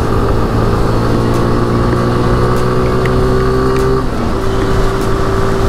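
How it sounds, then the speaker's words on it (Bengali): A Suzuki Gixxer FI ABS motorcycle, ridden at night, drones loudly and steadily as the throttle is opened; its engine tone shifts abruptly partway through, as at a gear change, then climbs again. "তো গাইস সেকেন্ড টাইম এখন আবার বাইকটাকে একটু থ্রোটল দিব, দেখি বাইকটা কেমন স্পিড আপ হয়"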